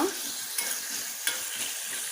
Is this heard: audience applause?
no